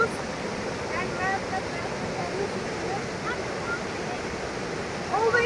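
A cold river in the Parvati Valley near Kasol rushes over rocks in a loud, steady, unbroken roar heard from the bank, with faint higher chirps now and then above the flow.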